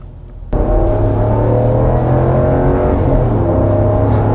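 A 2021 Ram 1500 Laramie 4x4 Crew Cab pickup engine starts accelerating after a short quiet moment. The loud, close engine roar climbs steadily in pitch and holds strong through the rest of the clip, with no one talking.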